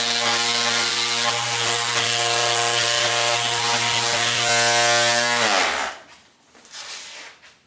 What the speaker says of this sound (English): Random orbit sander, 80 grit sanding pad, not masked off when I painted it, and let's go to town and scrub the top